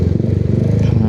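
A motorcycle engine idling and creeping through heavy traffic in Malolos, a steady low throbbing drone held close and loud throughout, with a voice talking over it.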